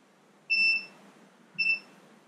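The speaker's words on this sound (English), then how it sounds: "you can hear it beeping" Two short electronic beeps about a second apart, clear and moderately loud against a low hum, heard while checking a Mercury Thunderbolt 500 50 HP outboard motor.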